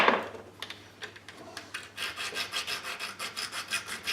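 A file rasps across a small wooden part of an old model boat, slow scattered strokes at first, then a quicker run of even, rhythmic rubbing passes close by.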